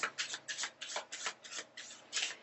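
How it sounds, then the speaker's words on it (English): Playing cards are shuffled close by, a quick series of crisp riffling bursts in an even rhythm, with no talking. "Let me give these cards a little bit of a shuffle"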